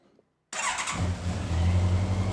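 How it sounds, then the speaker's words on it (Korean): A 2019 Honda CB1100RS motorcycle with its stock muffler fires up after a brief silence, a sharp onset settling into a steady, close idle rumble from the exhaust. "순정 머플러의 배기 사운드 한번 들어보고요."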